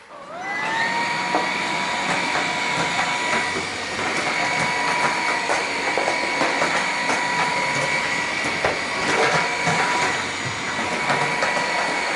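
A Xiaomi G9 robot vacuum cleaner hums steadily and loudly throughout a house, its motor whine holding constant with small bumps and clicks as it moves.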